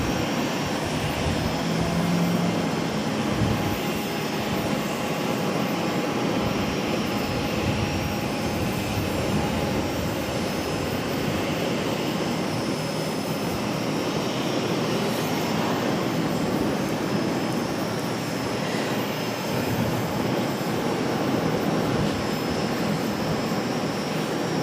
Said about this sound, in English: Lufthansa should have been landing any minute now